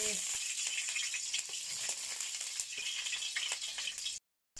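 Garlic sautéing in oil in a pan, a steady bright sizzle with light rattling stirs, continuous and close until it cuts out briefly near the end.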